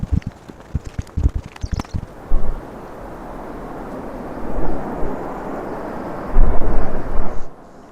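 Low, rolling rumble of thunder during a mountain hike on the Tour du Mont Blanc, swelling in broad surges around two and a half, five and seven seconds, preceded by a cluster of sharp close knocks and rustles.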